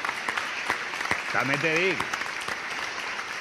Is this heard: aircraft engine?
no